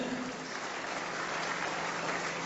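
A church congregation at a Sunday service applauding in praise, a soft, even wash of many hands clapping, faint and continuous throughout.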